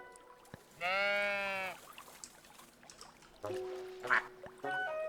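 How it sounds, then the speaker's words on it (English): Sheep in the cozy building game Tiny Glade bleat in a few separate calls, one long wavering bleat followed by shorter ones, clear and close over a quiet ambient bed, with soft watery and chirpy game sounds between. "Oh, wait, this sheep is in the water."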